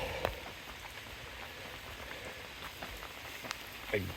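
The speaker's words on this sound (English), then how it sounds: "sideways rain was blowing in" Rain falls on a tarp shelter pitched along the Appalachian Trail, with wind-driven rain blowing in from the side. It makes a soft, steady patter and hiss with a few sharper drop taps, quiet and continuous.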